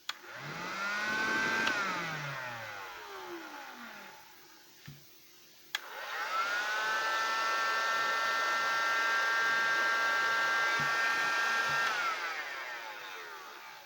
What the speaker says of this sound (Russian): Фен Dexter строительный. 2 киловатт.